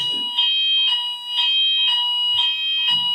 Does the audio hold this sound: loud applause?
no